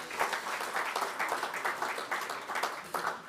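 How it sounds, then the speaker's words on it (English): An audience at a university welcome dinner for a new vice-chancellor breaks into a round of applause: dense, steady clapping from many hands that lasts throughout at moderate distance. "Let's give another round of applause"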